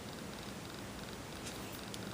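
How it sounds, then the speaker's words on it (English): A cat purrs softly and steadily up close, a low continuous rumble with a rhythmic pulse and no other sounds over it. "She's purring."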